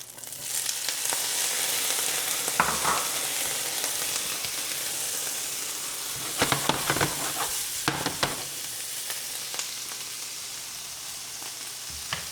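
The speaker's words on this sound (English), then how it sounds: "Now my skillet is warmed up. I'm going to add my onions." Onions hitting a warmed skillet for a Mexican-style omelet, a loud, continuous sizzle with crackling pops and a few bursts of stirring or scraping.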